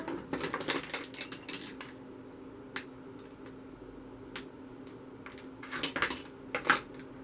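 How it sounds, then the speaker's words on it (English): Lead came for a stained glass panel is trimmed with a cutting tool, producing scattered sharp snips and metallic clicks close by, with quiet gaps between small clusters of cuts. "So just trimming the lead like that is enough to get a better fit."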